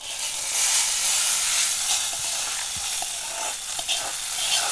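Curry leaves crackle and sizzle in hot oil while tempering for brinjal gojju, a steady bright hiss with small pops and spits, close and continuous, with no talk.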